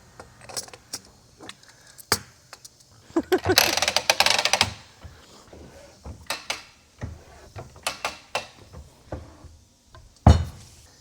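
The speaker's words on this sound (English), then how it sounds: "And then we're going to press that bearing onto the pinion" A bearing is pressed onto a differential pinion, giving a series of close metallic clicks, clanks and ratcheting knocks with a denser grinding burst partway through and irregular pauses between impacts.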